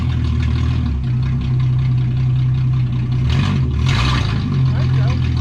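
A 1962 Ford Falcon Tudor, long abandoned and just rescued, runs with a close, steady low engine note that briefly lifts and wavers partway through, with people talking over it.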